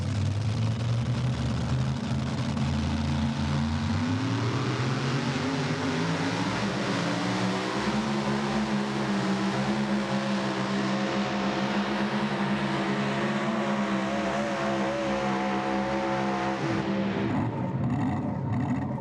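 A limited pro stock pulling tractor roars at full power during a pulling competition, its engine a loud, continuous heavy drone with rising and shifting pitch until it cuts off near the end.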